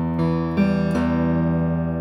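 Acoustic guitar fingerpicked in a 1-3-4-1 pattern, three plucked notes ringing over a sustained bass within about two seconds, close and moderately quiet, alone.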